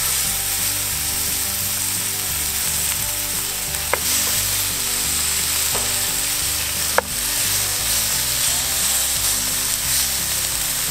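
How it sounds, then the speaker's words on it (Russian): Steaks sizzle steadily in a hot frying pan for a burger, a constant close crackling hiss, with a couple of sharp metallic clicks partway through. "Да, уже зашкварчало, все хорошо."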